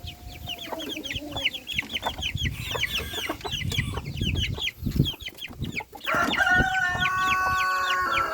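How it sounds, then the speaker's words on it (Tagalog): Hens clucking in a backyard flock, a busy run of close, repeated clucks and calls overlapping one another, growing louder and denser toward the end. "Tapos yung gal hen natin, nangingitlog na ulit."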